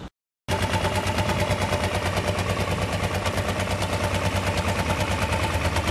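A 2007 Kawasaki Ninja EX500 motorcycle engine runs close by after a brief silence, a loud, steady, rapidly pulsing idle-like rumble with dense rattling clatter and no voices.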